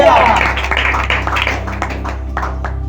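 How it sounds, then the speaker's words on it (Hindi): A church congregation at a morning prayer service claps together in a quick, steady rhythm, with voices heard under and between the claps. "हम ताली बजाएंगे"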